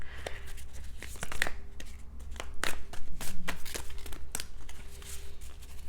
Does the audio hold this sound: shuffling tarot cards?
yes